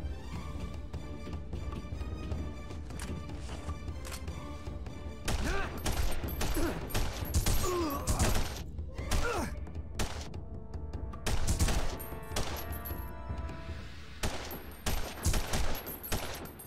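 Gunfire fills a firefight on the Stark Towers mission of The Punisher on PS2, with rapid bursts and single shots cracking repeatedly over a constant low game rumble, growing denser and louder in the second half.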